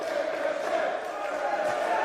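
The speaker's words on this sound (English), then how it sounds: "listen again, Bradshaw, the crowd behind Ricochet" A wrestling arena crowd in Manchester roars steadily in support of Ricochet. The continuous wall of cheering sits under a commentator's voice.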